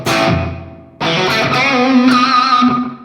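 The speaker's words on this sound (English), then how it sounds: "The slapback delay should really only be an extension of the room reverb." Distorted electric guitar chords ring out loudly through a Valeton GP-200X with slapback delay, a quick echo trailing each strum, two sustained hits close together.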